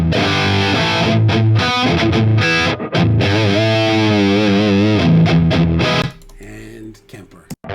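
Heavily distorted electric guitar through a Mesa Rectifier amp on channel 3 boosted by an 808 overdrive pedal plays a loud, saturated riff with sustained notes and bends, then cuts off abruptly into a short decaying tail.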